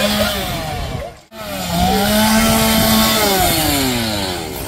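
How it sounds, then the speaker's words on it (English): A chainsaw revs loudly and close at a scream park on opening night, its engine screaming, dropping out briefly, then roaring back with rising and falling pitch. "who here likes chainsaw?"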